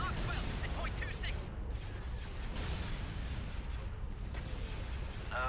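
Heavy cannon and artillery fire booms through a space battle in the Republic at War mod for Empire at War, dense rumbling blasts running throughout with radio-style voice chatter mixed in.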